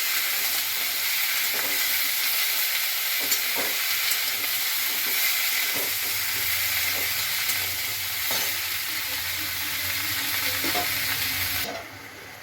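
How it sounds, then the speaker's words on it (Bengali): Beans and vegetables with ginger and green chili fry in a pan for vegetarian khichuri, a steady close sizzle and hiss with occasional stirring scrapes, the sound dropping slightly near the end. "সব একসঙ্গে ভালোভাবে আমি ভেজে নেব"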